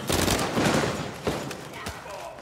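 Rapid bursts of gunfire from the video game Uncharted 4: A Thief's End, with loud automatic shots and a few sharp single cracks over a steady combat din.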